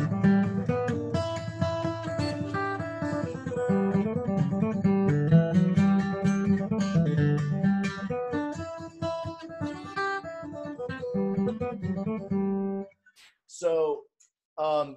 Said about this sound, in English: So this kind of guitar is used a lot in folk music or bluegrass music.